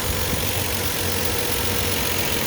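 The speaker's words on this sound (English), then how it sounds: "Here's the engine running." A 2004 Lexus IS300 engine idles steadily, a close, even mechanical hum with a faint rhythmic tick, unbroken and without voices.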